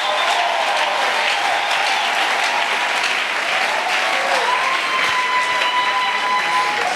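A church congregation applauds and cheers for the Lord during a 2021 Doxa service, with dense, steady clapping and shouts filling the room at a constant loud level throughout.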